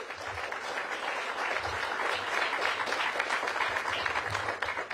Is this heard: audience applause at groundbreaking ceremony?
yes